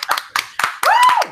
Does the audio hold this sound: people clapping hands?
yes